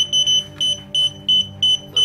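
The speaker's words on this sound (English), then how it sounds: "little bit of beep beep" A series of short, evenly spaced high-pitched electronic beeps from a DJI Spark drone remote controller, about seven in quick rhythm, sounding close and clear.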